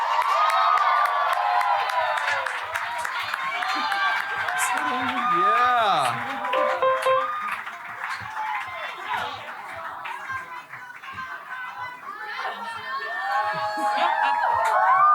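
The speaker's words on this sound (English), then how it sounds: "Everybody give them a round of applause." A small live-performance audience cheering and whooping for a choir, excited shouts and high cries with chatter from a close crowd, and only light clapping within the din.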